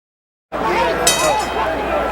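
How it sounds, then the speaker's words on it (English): A boxing ring bell ends a round during a 1974 heavyweight title fight, one bright metallic clang that rings out over a loud arena crowd roar. "There's the bell ending round 2"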